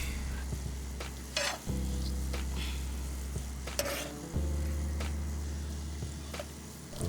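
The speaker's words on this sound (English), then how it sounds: "And giving it a stir." Sausage stuffing seasoned with sage and poultry seasoning is stirred in a pan, with a steady close sizzle of frying underneath and intermittent scraping strokes of the spoon, no voices.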